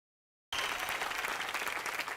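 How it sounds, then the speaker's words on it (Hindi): An audience breaks into loud, steady applause for an arriving guest on a television entertainment show stage, starting abruptly after a short silence and sustained throughout. "तो जोरदार तालियों से स्वागत कीजिए फुकरी पोली पंजाबन यानी के"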